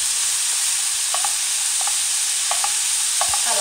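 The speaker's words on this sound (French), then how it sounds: "Je fais revenir." Kefta with pepper, salt and garlic powder sautéing in a pan, a steady bright sizzle broken by a few soft stirring scrapes, close and alone.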